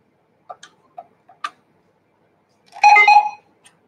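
An XTIOT XT7110 1D laser barcode scanner, just plugged in, gives a few short ticking clicks and then a brief, loud electronic beep tone of about half a second, followed by one faint click.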